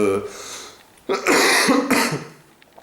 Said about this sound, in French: je tousse toujours, beaucoup